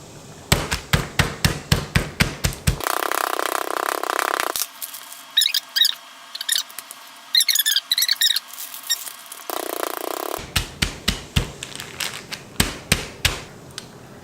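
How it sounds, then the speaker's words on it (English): A nail hammer pounds slices of raw beef flat for jerky, delivering rapid runs of sharp, close whacks, with a pause in the middle before the pounding resumes. "give it a couple good old whacks to get it thin so it'll dehydrate faster"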